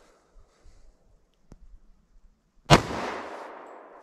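Single loud, sharp pistol shot from a 5.3-inch Glock 41 firing a .45 ACP Buffalo Bore round outdoors, with a decaying rumbling tail after the report and faint handling noises before it.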